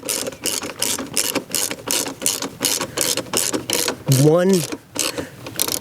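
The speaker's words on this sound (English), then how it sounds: "Take our tool and just adjust it. Just tighten it." Ratchet tightening a bolt on a motorcycle rear rack for a Honda CRF250L Rally, a rapid regular clicking close by, interrupted briefly by a spoken word.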